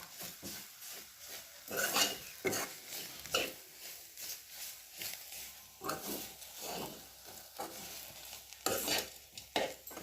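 Green beans are stirred as they fry in a pan, a spoon scraping and clinking against the metal in irregular strokes over a soft sizzle, close by and without speech.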